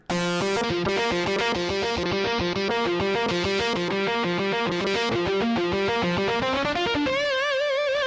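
A distorted guitar sample from the Dynamix Guitar Trio keyboard style plays through an amplifier model on a Yamaha arranger keyboard, a loud, continuous riff of rapid chugging notes with gritty overdrive, ending on a sustained note with wavering vibrato.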